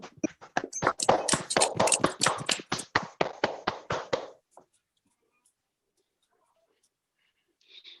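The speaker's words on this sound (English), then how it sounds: "Please give a huge round of applause to Miss Falke Shravani" A small group claps for a prize winner at a month-end prize ceremony. Sharp, close, evenly spaced claps run for about four seconds, then stop, leaving near silence.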